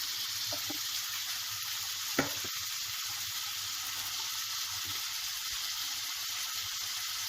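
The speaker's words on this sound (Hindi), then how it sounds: "ये मसाले भून गए तो आलू डालेंगे।" Spices sizzle steadily in a pan of hot oil for a potato samosa filling, a soft even crackle with one brief clink partway through, heard without any speech.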